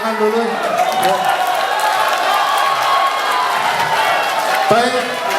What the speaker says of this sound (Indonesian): hadirin sekalian, kita beri tepuk tangan dulu